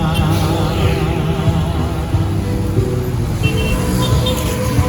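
A city bus pulling up and idling close by at the João Dias bus terminal, its loud, steady engine rumble mixed with continuous roadway traffic noise throughout, no talking.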